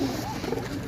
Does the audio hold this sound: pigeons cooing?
yes